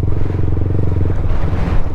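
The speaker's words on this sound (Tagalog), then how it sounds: "Sobrang lakas ng hangin." Strong wind roars across the microphone while riding a motorcycle near the sea by the Roma Bridge linking Alabat Island to mainland Quezon, a loud continuous buffeting rumble with the engine's low drone underneath.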